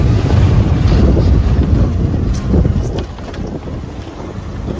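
Auto rickshaw ride on a dusty, potholed road, heard as steady loud rumbling wind and road noise buffeting the microphone, easing slightly in the last seconds.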